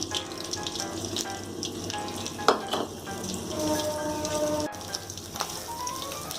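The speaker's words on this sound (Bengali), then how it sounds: "ওই তেলের মধ্যেই কালো জিরা ফোড়ন দিলাম, একটা কাঁচা লঙ্কা দিলাম" Nigella seeds and a green chili sizzle in hot oil left from frying pointed gourd, a steady, close crackle and hiss throughout, with a few sharper pops.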